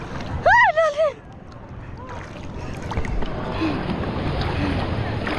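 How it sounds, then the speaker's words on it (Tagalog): A brief voice at the start, then the drone of a boat engine rises against wind and water noise, growing steadily louder as it nears. "may paparting na bangka guys"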